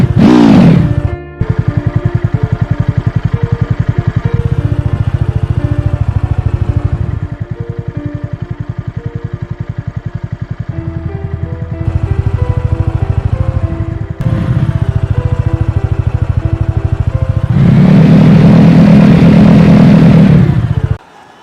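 A TVS Apache RTR 200 motorcycle engine cranks and fires up, then settles into a loud, close idle with repeated throttle blips and surges, ending in a strong rev before it cuts off.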